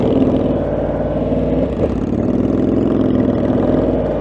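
A motorcycle engine idling nearby in Daytona Beach with a steady low rumble, a brief dip and a slight rev midway, no voices.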